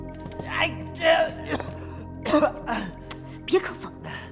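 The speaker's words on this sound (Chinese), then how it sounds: "别咳嗽。" Several harsh coughing and throat-clearing bursts from a person in a Chinese TV drama scene, spaced irregularly over a few seconds, close and moderately loud with faint room tone between them.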